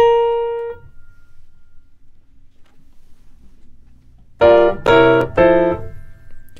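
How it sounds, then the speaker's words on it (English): Piano tones from an electronic keyboard: one sustained note fading out, a quiet pause, then three loud, bright chords struck in even succession, close and clear without speech. "Can you hear the piano?"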